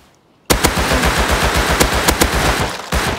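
An auto turret in the game Rust opens fire in a sudden loud burst of rapid automatic shots, hammering on steadily for nearly three seconds after a quiet start.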